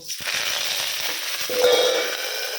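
Tempering spices spatter and pop in hot oil under a lid, giving a dense close-up sizzle with quick crackles throughout.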